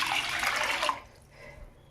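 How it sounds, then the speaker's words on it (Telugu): Water pours steadily onto washed toor dal in a pot, a close, full gush lasting under a second before cutting off to a quieter trickle. "ఇగోండి వాటర్ పోసేసుకుందాం"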